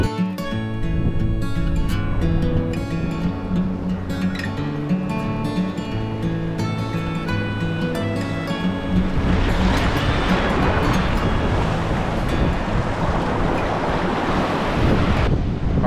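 Ocean waves break on a beach at Corpus Christi, Texas, a loud surf wash swelling in the second half beneath strong wind buffeting the microphone, with a tonal hum early on.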